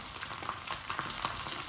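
Grated coconut and ten whole dried red chillies fry for Kerala-style sambar, giving a dense, steady sizzle with brief scraping stirs, close and fairly loud.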